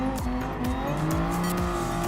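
In Gran Turismo Sport, a Toyota Supra race car engine screams through repeated upshifts, its rising pitch dropping again at each gear change, loud and close, with a brief tyre squeal.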